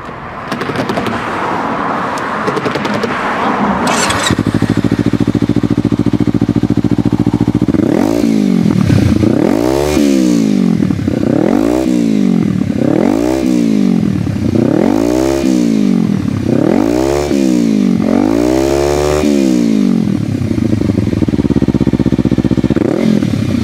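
A Kawasaki Ninja 300 and a Honda CBR 250R with aftermarket M4 and TBR exhausts: an engine starts with a clattering crank, settles to a loud idle, then revs up and down repeatedly in a steady rhythm.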